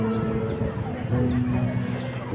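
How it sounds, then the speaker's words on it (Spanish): Outdoor street ambience outside the Instituto Cervantes building with a steady, distant murmur of voices and general city hum, continuous and even throughout. "si alguna vez te has preguntado cómo suena el Instituto Cervantes"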